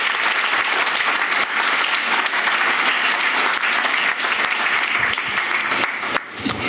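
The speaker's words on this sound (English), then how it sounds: "Please give Cathy a very, very warm applause" A conference audience gives sustained, dense applause, steady and fairly loud throughout before easing slightly at the end.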